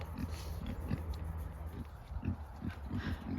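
A pig on a smallholding grunts repeatedly near at hand, short low snorts in an irregular rhythm over a steady outdoor background.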